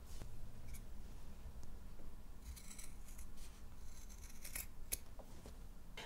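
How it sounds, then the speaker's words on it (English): Scissors trim a quilting fabric seam allowance in a series of quiet, crisp snips close by, against a faint background hiss. "now I can trim off at a 1/4 inch seam allowance"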